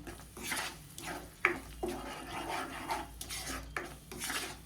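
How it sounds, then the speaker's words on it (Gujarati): Close up, a spoon stirs chhole masala into gravy in a pot, with repeated scraping strokes and metallic clanks against the pot and no talk. "સારી રીતે મસાલાની ગ્રેવીમાં મિક્સ કરી લેશું"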